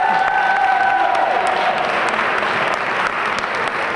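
Hand clapping from the audience at the 2019 Jersey City Women of Action Awards Ceremony, a steady, full round of applause with scattered sharper claps standing out, fading slightly near the end.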